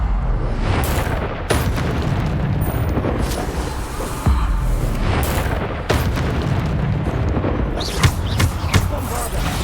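Repeated Bombarda blasting spells booming in the Hogwarts Legacy video game, dense layered explosions and bursts one after another over constant game noise and music.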